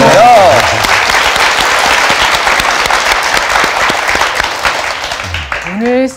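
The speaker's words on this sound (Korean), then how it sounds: "네, 다시 한번 큰 박수로 환영해 주시죠." A studio audience applauds to welcome the education minister, loud dense clapping throughout, with brief voices or music at the start and end.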